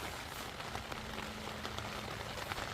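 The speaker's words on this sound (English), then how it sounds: "You might as well enjoy the rain with us." Rain falls steadily at a campsite, a soft, continuous hiss of drops pattering on surfaces with no voices, fairly faint and even throughout.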